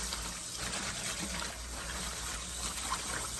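Water runs steadily from a tap while collard greens are rinsed, a soft continuous trickle and splash heard close and alone.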